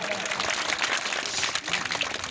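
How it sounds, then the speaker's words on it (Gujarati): Clapping from a crowd gathered to honour a fallen soldier, a dense, continuous patter of applause at moderate volume, heard from a little distance with faint crowd murmur mixed in. "તાળીઓનો ગડગડાટ"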